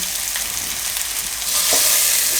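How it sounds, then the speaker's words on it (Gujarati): Potatoes frying in a pan over a medium gas flame, a bright, dense sizzle that swells slightly louder toward the end of the short stretch, with no talking. "બટેટાને થોડીક વાર પકાવી લે હું આમાં આપણે મીડિયમ ગેસ રાખીને"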